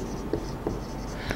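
Chalk or marker writes on a board during a classroom lesson, with a few short scratchy strokes at intervals, faint and close, under a quiet room tone.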